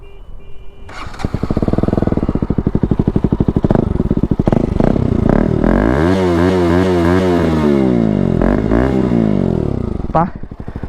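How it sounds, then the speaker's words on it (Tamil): A loud KTM RC200 motorcycle with a fully modified exhaust revs up and holds a throaty, rumbling exhaust note, rising and falling in pitch before settling back to idle. "நான் அப்படியே எக்ஸாஸ்ட் நோட் கேட்டுட்டு வண்டி எடுத்துகிட்டு போவோம்."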